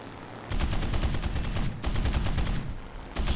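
Rapid bursts of aircraft machine-gun fire from a Sea Hurricane Mk 1C in the combat flight game War Thunder, loud dense rattling volleys in several runs separated by brief pauses, with no talk.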